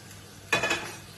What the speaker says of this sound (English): Put the cabbage in the pan. Roast that off.